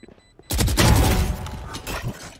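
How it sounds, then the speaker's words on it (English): A flashbang detonates in a Valorant match, a sudden loud burst after near quiet that rings and crackles for about two seconds before fading. "Flashbang"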